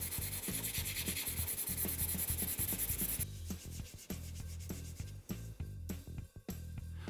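Hand sanding of a wooden Remington Model 11 shotgun stock with 150 grit abrasive paper, a close, steady back-and-forth rasping scrub in quick repeated strokes, with a lighter, more broken rhythm in the second half.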